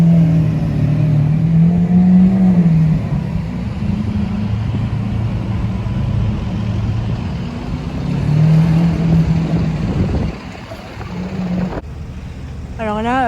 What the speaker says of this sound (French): deuxième sublime Lamborghini Aventador SV